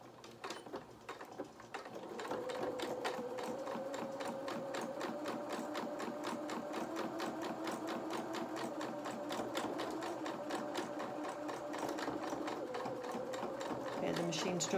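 A sewing machine runs continuously with a fast steady rhythm as it stitches culottes fabric, labouring over a thick seam, loud and close with no pauses.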